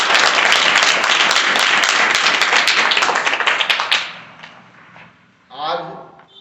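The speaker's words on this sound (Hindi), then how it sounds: "गणित के सदन की शुरुआत हम करते हैं जोरदार तालियों से" An audience at a mathematics class session gives a loud, dense round of applause lasting about four seconds, then it thins to scattered claps and fades, followed by a brief murmur of voices.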